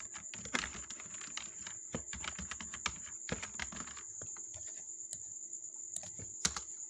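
Bursts of quick keyboard typing up close, clustered keystrokes with short pauses, over a faint steady high-pitched hum.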